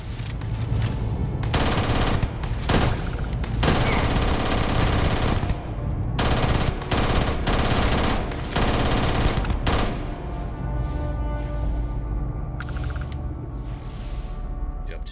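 Sustained automatic gunfire in the Starfield video game, dense rapid bursts that are loud and close, with brief gaps and mechanical clanks, then a quieter stretch of sparser shots near the end.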